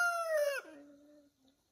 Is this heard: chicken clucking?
yes